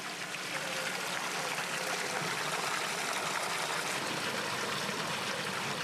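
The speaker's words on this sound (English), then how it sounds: "It's coming from the outdoor tank of this riverfish restaurant." Water flowing steadily in the outdoor fish tank of a river-fish restaurant in Tokyo, a continuous, even rushing trickle, fairly quiet and heard alone without talk.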